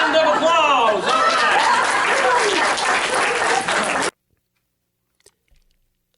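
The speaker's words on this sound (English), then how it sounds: "Give her a big round of applause." A live audience claps and cheers loudly for about four seconds while voices sound over the top, then everything cuts to near silence with a few faint clicks.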